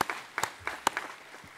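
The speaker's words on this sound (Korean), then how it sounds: "박수를 하나님께 드리겠습니다." Congregation in a church service clapping, a few scattered, sparse claps rather than full applause, fairly faint and brief.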